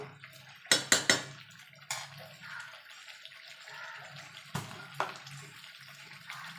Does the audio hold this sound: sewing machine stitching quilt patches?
no